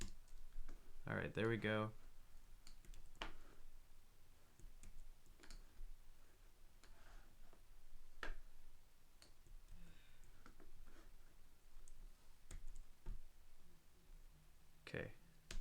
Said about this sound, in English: My typing is atrocious right now.